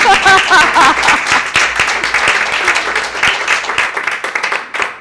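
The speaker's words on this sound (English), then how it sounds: "Let's give them a round of applause" Congregation applause at a Center for Joyful Living gathering, loud dense clapping that starts strong and gradually thins toward the end, with a brief voice near the start.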